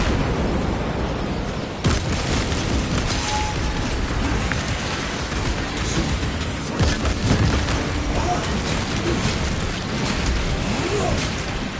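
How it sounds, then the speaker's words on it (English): A krak grenade blows up in Warhammer 40000 Space Marine 2, heavy booming blasts and bursts of gunfire in dense, continuous combat noise, with sharp hits near the start and the middle. "Throwing crack grenade."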